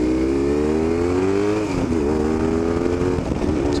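A BMW R1150GS motorcycle, ridden after restoration, revs up through the gears with a steady engine drone that rises in pitch, dips briefly at a shift around midway, then climbs again, loud and close.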